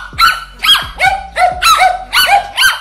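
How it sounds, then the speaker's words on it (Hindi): A dog yelps after a lizard whips it with its tail, giving about six sharp, high, crying yelps in a steady rhythm, close and loud, with no talking. "कुत्ता भाई रोते हुए वहां से भाग गया"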